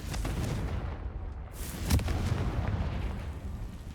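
Fiery blasting spell explosion in the video game Hogwarts Legacy, a deep rumbling boom with a sharp crack near the middle, fairly loud over a steady low roar, with no speech.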